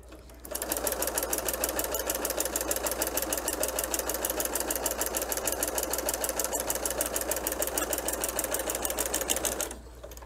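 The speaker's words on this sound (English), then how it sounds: "I wanted to backstitch. So I'm just gonna go ahead and backstitch it." A sewing machine stitches quilt-as-you-go fabric in a fast, even run of needle clatter that starts sharply, holds steady for about nine seconds and then stops, close and alone with no talk.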